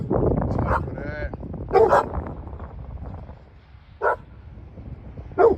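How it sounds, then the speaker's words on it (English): A few dogs bark in short separate bursts some distance away during a pressure washing job, with someone talking between and over the barks. "Y'all hear them dogs?"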